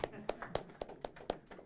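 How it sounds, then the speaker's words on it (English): A small audience at a research day talk gives a sparse round of hand claps, about seven distinct faint claps at an even rhythm. "Please, let's give Terence a round of applause."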